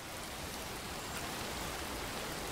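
Steady English rain pours over an outdoor tiger enclosure, a dense, even hiss of drops with no pauses or voices.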